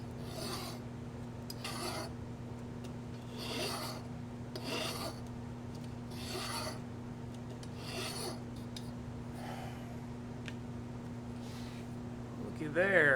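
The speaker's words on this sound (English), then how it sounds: "Feel it under the file, you can hear it." A hand file rasps rust off pitted metal on an MG 81 in a series of rhythmic back-and-forth strokes. The rough scraping is close and steady, with speech heard intermittently.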